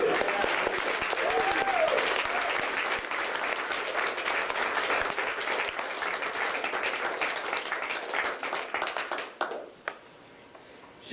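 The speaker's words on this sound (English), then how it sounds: "round of applause" Audience applause fills a hall at a Black liberation discussion, steady dense clapping from a crowd for about nine seconds before thinning and fading out.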